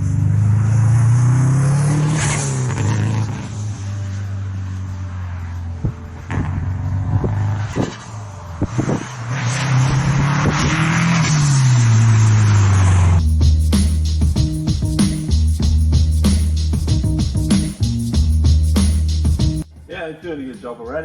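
A Peugeot fitted with a stroked flat-four engine drives twisty, undulating roads in the Black Mountains, its engine note rising and falling through loud revs and gear changes heard from inside the car while people talk.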